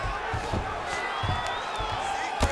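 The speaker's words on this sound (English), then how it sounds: "the crowd continues to react with every passing land" A crowd in the UFC 5 video game roars and cheers steadily during a simulated mixed martial arts bout, with thudding impacts and a commentator's voice over the noise.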